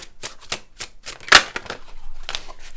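Tarot cards are shuffled and drawn close up, a series of sharp papery flicks and snaps in an irregular rhythm, one louder slap near the middle, with no speech.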